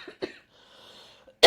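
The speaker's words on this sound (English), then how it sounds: "who's coughing now?" A person gives a couple of soft, muffled coughs early on, then a brief pause with faint room noise, ending in one sharp, loud cough close to the microphone.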